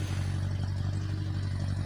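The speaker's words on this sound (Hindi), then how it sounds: "इधर एक ट्रैक्टर भी चला हुआ है।" Steady low engine drone of a tractor running out in farm fields, a continuous mid-distance rumble with a constant low hum and no voices.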